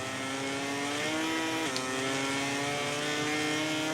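A racing motorcycle engine in the video game MotoGP 18 holds a high, steady whine with a brief gear-change dip midway, loud and continuous with no talk over it.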